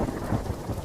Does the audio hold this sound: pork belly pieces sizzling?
no